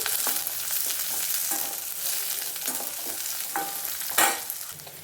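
Onions frying in a pan with cumin, dried red chili and curry leaves, giving a steady close sizzle with occasional stirring clatter throughout, no voices.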